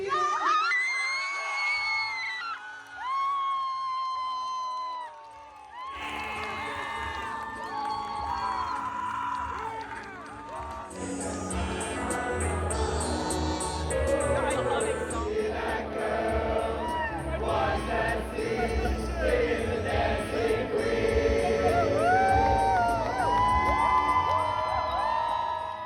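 A crowd screams and cheers loudly as a team is announced first-place winner at an SDC build competition, sustained high-pitched shrieks and whoops swelling and continuing without pause.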